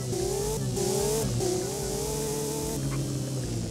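A Porsche GT4 engine in the video game Driving Empire hums steadily with rising and falling revs, a continuous mid-pitched drone with no voices.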